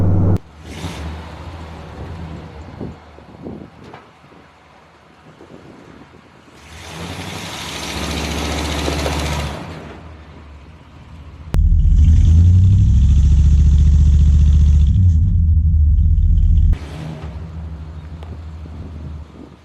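Big-block 454 (7.4 L) dually truck, slammed, revving for a burnout attempt: two loud bursts of roaring engine separated by quieter idle stretches, heavy low rumble in the second rev, close and with no talking.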